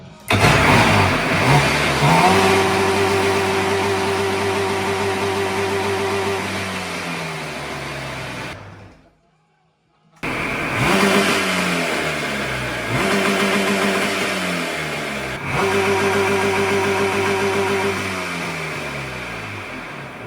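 An engine with a freshly rebuilt carburetor starts, idles and revs repeatedly, loud and close. It stops briefly before being fired up again and revved in several more bursts.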